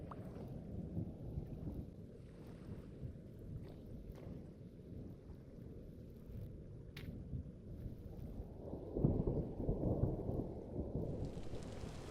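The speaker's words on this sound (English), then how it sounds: "Oh boy, and it's raining." Steady rain hisses throughout in the video game Vintage Story, with a low, rolling thunder rumble underneath that swells louder near the end.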